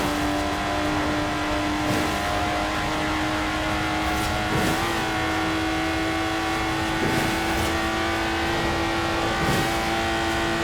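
Steady engine drone of a Lotus Exige sports car in Forza Horizon 4, a sustained mid-pitched hum at constant volume with faint periodic swells, heard alone without speech.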